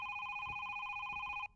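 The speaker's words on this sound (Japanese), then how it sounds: "お電話鳴ってますよ" A telephone rings in a horror video game: a steady, bright two-tone electronic ring held for over a second, then cut off abruptly, with faint background noise beneath.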